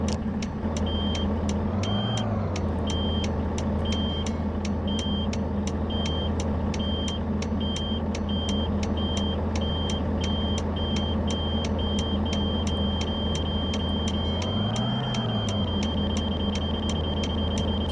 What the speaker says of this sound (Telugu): సరే అలారం కిచ్ కిచ్ కిచ్ కిచ్ కిచ్ అలా కొట్టుకుంటుందా